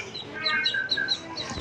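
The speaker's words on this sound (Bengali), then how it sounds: "তো এটা হচ্ছে আমার মুরগি বাচ্চাগুলোর আপডেট" Native chicken chicks chirp in a quick series of high, thin peeps, close by and moderately soft over a quiet room.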